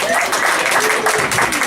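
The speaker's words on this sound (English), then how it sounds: "Give a round of applause." An audience at a university MFA showcase reading applauds, dense clapping with scattered cheers at moderate distance, continuing steadily throughout.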